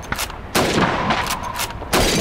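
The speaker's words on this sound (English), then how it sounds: "Step up to the shooting range. Ready, comrades? Shoot those bottles and plates." Rifle shots ring out on a shooting range in the Call of Duty 2 video game, several loud, close cracks with booming tails, fired in quick irregular succession at bottles and plates.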